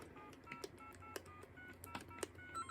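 Touch-tone keypad dialing *70 on a custom TDM telephone switch built with Dialogic voice boards: several short DTMF tone bursts at uneven intervals over a steady low hum, with quiet clicks between presses.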